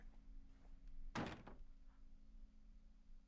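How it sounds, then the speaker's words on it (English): A door in the psychological horror game Unfollow swings open on its own with a single loud, sharp thud-like burst, followed by low hum and quiet room tone. "that door just opened by itself. Oh, and it's making creaky noises"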